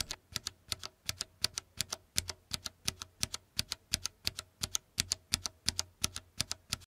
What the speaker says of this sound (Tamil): சப்போஸ் நைட் ஆடும்போது நீங்கள் மெக்கானிக்கல் கீபோர்டு யூஸ் பண்ணிங்கன்னா ஸ்னைப்பர் மாதிரி கேட்கும்